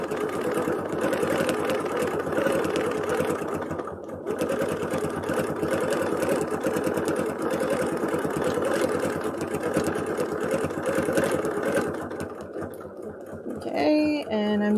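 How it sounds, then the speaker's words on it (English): Sewing machine stitching steadily at a close, loud level, with a brief pause near the middle and a back tack just before the motor stops at the end. "I'm just stitching, back tacking a little bit"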